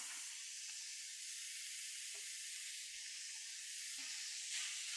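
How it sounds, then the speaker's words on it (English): Garlic sizzling in a hot pan with browning beef, a steady faint high hiss of frying that holds throughout with no talking. "So I'm going to add my garlic now."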